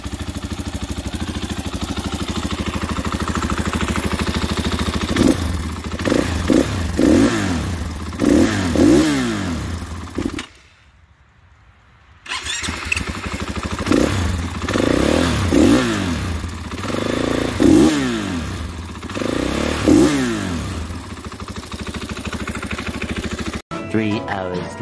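A 2022 KTM 500 EXC-F dirt bike fitted with an FMF Factory 4.1 exhaust idles and revs up repeatedly nearby, with rising and falling engine sweeps, a short quiet gap midway, and a voice talking at times.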